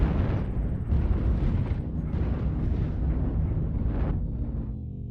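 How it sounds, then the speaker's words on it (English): Airstrike explosions in a MechWarrior battle rumble as a dense, continuous roar with several heavy booming swells, loud and close throughout. "And an airstrike comes out, and it doesn't look like it hits any of the STS."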